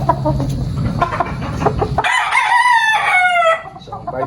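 A sweater gamefowl stag crows loudly and close, a single drawn-out cock-a-doodle-doo following a stretch of clucking and farmyard noise.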